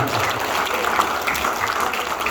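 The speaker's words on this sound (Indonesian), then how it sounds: "Beri aplaus dulu." Audience applause at an Indonesian business event, steady dense clapping from a crowd that fills the whole stretch at fairly loud level, with no voices standing out.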